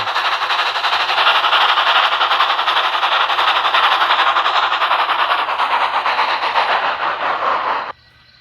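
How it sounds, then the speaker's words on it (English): A loud, steady broadband rush with rapid rattling texture of a steam train running along tracks nearby, continuing for several seconds before cutting off abruptly. "Edward had to now switch tracks because Gordon was blocking the one track that Edward was on."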